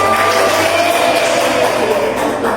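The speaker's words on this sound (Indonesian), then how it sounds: "Kasih tepuk tangan dulu temannya." Classmates applauding in a classroom, a dense wash of clapping and crowd noise at steady loudness, with a faint voice in the mix.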